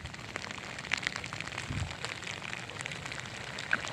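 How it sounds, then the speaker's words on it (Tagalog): Heavy rain from a typhoon pours steadily at a dam, a dense even hiss with scattered patters of drops, fairly loud and continuous with no voices. "Yan, lakas ng ulan."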